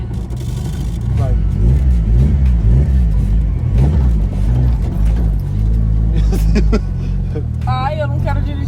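A turbo pickup truck engine rumbles loudly and revs under acceleration, with rapid fluttering bursts as the throttle lifts, while people talk over it.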